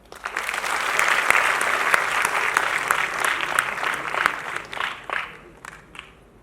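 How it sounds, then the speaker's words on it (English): A college festival crowd applauds warmly for several seconds, the clapping swelling and then thinning out into a few scattered claps at the end. "you guys can clap for yourself"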